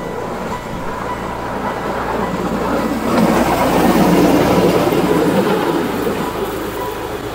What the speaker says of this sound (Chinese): 大清早，火车站就有小型的工作台车在巡视铁轨的安全。